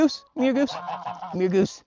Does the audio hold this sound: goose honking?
yes